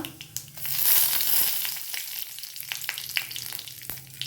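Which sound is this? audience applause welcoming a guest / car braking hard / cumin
cumin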